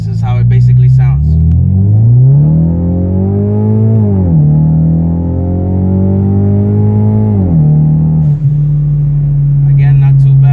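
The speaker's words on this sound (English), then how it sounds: "I'm gonna go ahead and just drive full throttle." Cabin view of an EcoBoost Mustang with an MBRP catted downpipe and full MBRP race catback exhaust under full throttle, windows up: a loud, droning engine note climbs in pitch, dips briefly at two gear shifts, then settles into a steady hum.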